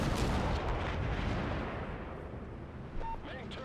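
Destroyer deck guns firing in World of Warships, Wickes class, as a dense, heavy rumbling barrage that fills the clip continuously, loud and close, fading slightly toward the end with a faint tonal blip.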